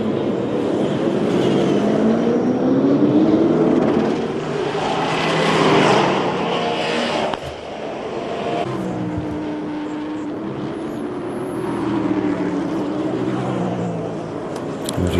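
Race cars in a 2011 International Superstars race roar past on track while battling for position, with engine notes rising and falling and a loud, busy blend of several cars at mid distance.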